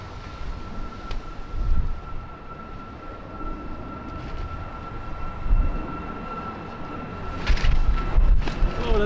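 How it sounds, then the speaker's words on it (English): A Ryanair airliner going around at Lisbon Airport in strong wind, its distant engine roar swelling and fading under gusty wind rumble, with a steady tonal whine and a few sharp clicks over the top. "So that was the second go around for this Ryanair."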